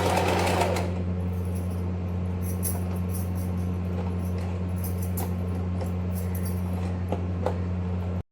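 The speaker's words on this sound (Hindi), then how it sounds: "जैसे ही मैंने जल्दी में सिलाई मशीन चलाई है" A sewing machine runs steadily while stitching fabric, giving a continuous mechanical hum with a low drone and small clicks for about eight seconds before stopping abruptly.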